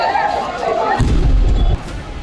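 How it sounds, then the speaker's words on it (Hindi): Gas cylinders exploding in a burning truck near a bus depot in Dharavi, Mumbai: a loud, deep boom rolls into a low rumble lasting under a second, over a noisy background with voices. "कोई कुछ समझ पाता उससे पहले ही धमाके शुरू हो गए।"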